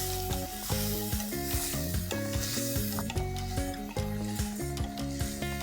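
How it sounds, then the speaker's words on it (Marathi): Two finely chopped onions sautéing in a pan for a village-style Kharda chicken sizzle steadily and close by, partly under prominent background music. "घ्यायचे 2 बारीक चिरलेले कांदे आणि आता हे छानपैकी परतून घ्यायचं"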